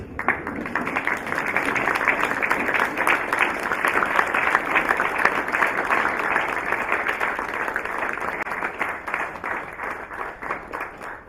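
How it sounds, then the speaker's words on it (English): Audience at a launch event for a digital skills programme stands and applauds, a dense, steady wash of clapping that holds loud and even for about eleven seconds with no talk over it. "let us stand up and we give an applause"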